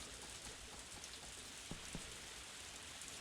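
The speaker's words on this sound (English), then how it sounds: "It has been a rainy fall" Quiet, steady rainfall from the video game Story of Seasons: A Wonderful Life, a soft continuous patter with a few distinct drip-like taps standing out.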